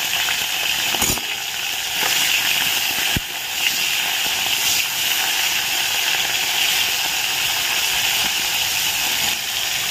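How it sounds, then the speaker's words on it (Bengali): Fish heads fry in hot oil, a dense, continuous loud sizzle and hiss with a couple of sharp crackles, steady throughout with no talking. "তেলটাকে গরম করে মাছের মুড়োগুলোকে আগে ভেজে নিই"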